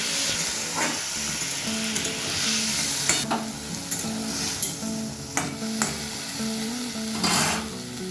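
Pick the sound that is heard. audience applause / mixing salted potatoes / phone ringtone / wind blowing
mixing salted potatoes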